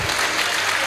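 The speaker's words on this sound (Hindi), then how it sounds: "एक बार जोरदार तालियां" An audience at a Hindu religious discourse (katha) claps briefly, a dense, loud burst of applause.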